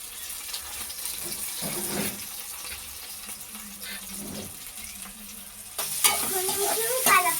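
Green chillies being stirred as they fry in a pan for a chicken tomato curry: a soft sizzle runs throughout with scraping strokes around 1.5–2 s and 4 s, then brighter clatter and hiss near the end, with no talk.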